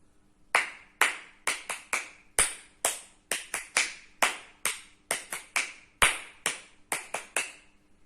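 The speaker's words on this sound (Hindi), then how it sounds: "ये थी क्या खास ताली, स्काउट और गाइड की विशेष ताली।" A single person performs the special Scout and Guide clap by hand: crisp, sharp claps in a patterned rhythm of quick doubles and triples separated by short pauses, close and clear against a quiet background.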